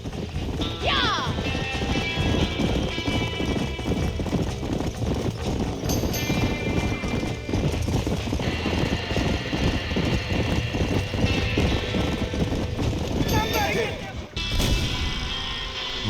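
Horse in the Red Dead Redemption video game, with rhythmic hoofbeats pounding steadily throughout amid a fire-filled scene, a high whinny near the start and other game noise around it.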